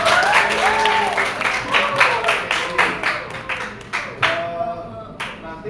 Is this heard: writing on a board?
no